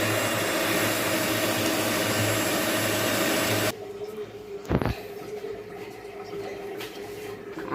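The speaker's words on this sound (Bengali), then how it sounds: "চিনিটা যে পর্যন্ত না গলবে ওই পর্যন্ত আমি আবার ব্লেন্ড করতে থাকবো" A blender whirs loudly and steadily, blending sugar for a homemade chocolate cake, then cuts off abruptly partway through. A quieter room hum and a brief knock follow.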